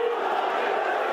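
A football stadium crowd at Middlesbrough versus Millwall giving a loud sustained collective groan and roar, a dense continuous wall of voices with no breaks.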